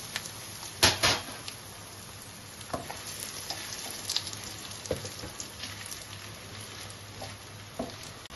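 Cashews and raisins frying in a pan with whole garam masala spices and bay leaf, a soft steady sizzle broken by a few sharp clatters and scattered small taps.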